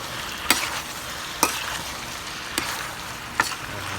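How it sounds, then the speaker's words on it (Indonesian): Spicy beef stir-fry with soy sauce sizzles in a pan as a spatula scrapes through it four times in an uneven rhythm, each stroke a sharp, close scrape over the constant frying hiss. "Kita aduk lagi."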